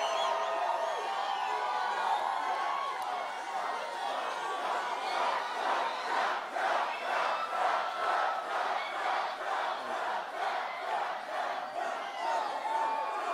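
A big crowd at a Donald Trump campaign rally in Colorado Springs roars, cheers and chants steadily and loudly throughout, with rhythmic pulses of shouting building in the second half.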